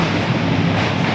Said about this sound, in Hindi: ट्रेन अभी जा रहल छै पुरना ब्रिज पर।